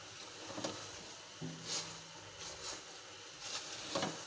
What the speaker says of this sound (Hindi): 5 मिनट इसी तरह इसकी भुनाई करेंगे अच्छी तरह